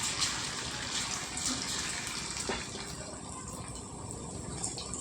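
Pieces of tindora (ivy gourd) fry in hot oil for a Dondakaya 65 dish, giving a steady, fairly quiet hiss and sizzle with a few faint pops and crackles.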